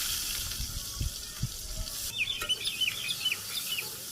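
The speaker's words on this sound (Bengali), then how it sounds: "পেঁয়াজটা আমি লাল লাল করে ভাজি করে নিই।" Chopped onion sizzling in hot oil in a village kitchen, a soft steady frying hiss with occasional stirring knocks, while a rooster clucks nearby in the background.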